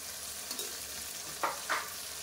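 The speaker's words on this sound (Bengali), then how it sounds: "এগুলোকে দিয়ে সবগুলো একদম মিক্স করে নেব" Capsicum cooks with butter and ghee in a pan, a faint steady sizzle broken by two brief scraping stirs near the end.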